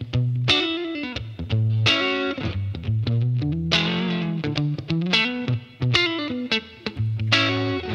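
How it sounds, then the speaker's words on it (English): An electric guitar sends its signal through a wireless guitar transmitter into headphones, giving heavily distorted, effects-laden chords and single notes in a continuous loud riff with sustained tones and sharp attacks, with no voices. "It's basically a wireless guitar transmitter. You plug it into your guitar."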